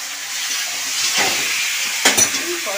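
Chicken leg pieces dropped into a pan of fried potatoes and onions, giving a loud, close hiss of frying that continues throughout, with a couple of sharp clatters near the end.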